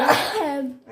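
A single sharp sneeze close by, with a burst of breathy noise that quickly tails off into a short voiced sound.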